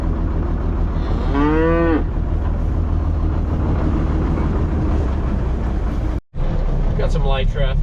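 Cattle on a farm moo loudly nearby, one long drawn-out low call followed after a pause by another, over a steady rumbling background.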